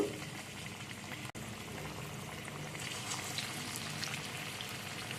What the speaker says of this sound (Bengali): আমি এভাবে গোল গোল করে যে বলের আকারে সেভ করে তেলের মধ্যে ছেড়ে দেব